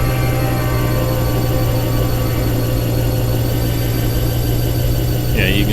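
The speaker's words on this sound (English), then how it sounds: "This one is a Cummins ISX 500 horsepower." A Cummins ISX 500 hp diesel truck engine running in American Truck Simulator, a steady loud low drone with a strong hum, unchanging throughout, with a brief voice at the very end.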